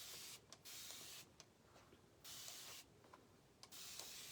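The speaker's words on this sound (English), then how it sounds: "this is a fine mist spray bottle that Dixie Belle carries" A fine mist spray bottle sprays water onto upholstery fabric before painting, giving four soft, close hissing bursts of about half a second to a second each with quiet pauses between.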